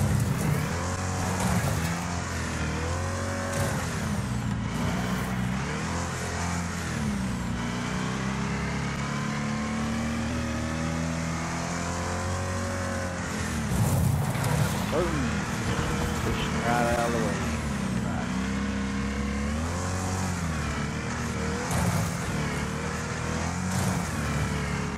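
Big rig trucks race around a dirt speedway at Dirt Devil Stadium, their engines roaring and revving in rising and falling sweeps as they pass, loud and continuous, while people talk nearby over the noise.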